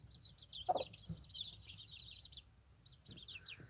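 Young chickens at dusk give soft, faint clucks and chirps, scattered in short bursts close by with no talk.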